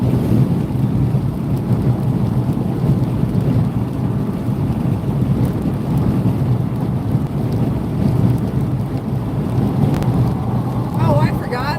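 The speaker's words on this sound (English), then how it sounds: "we're still driving in the rain" Heavy rain drumming on a car driving along the I-4 highway between Orlando and Lakeland during a thunderstorm, a dense, constant roar of rain and road noise with low rumbling beneath, close and loud throughout.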